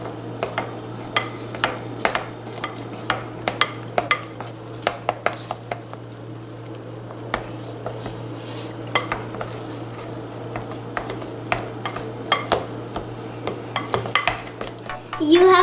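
A spoon or whisk beats cupcake batter with eggs in a bowl, giving repeated light clicks and scrapes against the bowl over a quiet steady hum.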